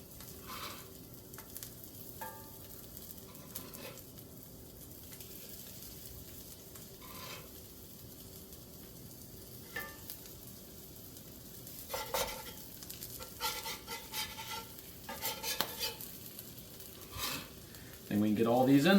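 Slider patties sear in a hot pan with a steady low sizzle and occasional stirring or scraping clatter, growing busier toward the end.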